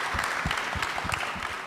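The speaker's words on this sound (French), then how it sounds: "Merci de l'applaudir," Audience applause at a Téléthon charity event, a short burst of dense, continuous clapping from a crowd.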